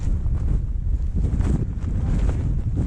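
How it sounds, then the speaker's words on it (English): Strong gusting wind on Bamford Edge, an exposed gritstone ridge, during Storm Ellen, buffeting loudly and continuously with deep rumbling surges and no talk. "It's a bit bloody windy."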